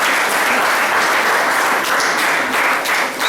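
Loud, sustained applause from a school workshop audience, a dense, even wash of many hands clapping close by throughout.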